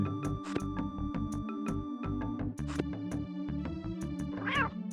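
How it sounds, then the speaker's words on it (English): A cat meows a few times over busy, rhythmic 1990s video game music with bright electronic tones, the meows short and close. "All I have is a meow button."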